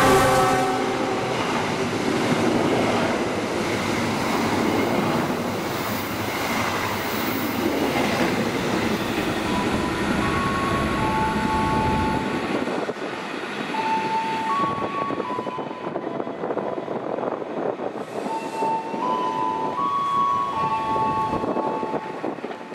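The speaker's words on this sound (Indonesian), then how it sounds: "Lalu ini kereta api Taksaka." A Taksaka passenger train rushes past at high speed with a loud, continuous roar and rumble of wheels, then recedes while a horn-like tone sounds in the fading rail noise.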